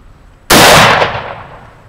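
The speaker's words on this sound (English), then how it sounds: "Here's Taylor shooting the big gun." A single booming gunshot from a big gun fired outdoors at an athletics meat festival, very loud and close, with a sharp blast that trails off into a long fading echo.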